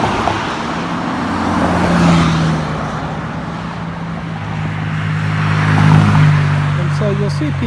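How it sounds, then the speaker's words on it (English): Road traffic at a five-lane city intersection, turning lanes included, with a steady engine hum and vehicles swelling as they pass close by, one rising passage early and another near the end, under an ongoing wash of roadway noise. "it's 5 lanes of traffic, including the turning lanes."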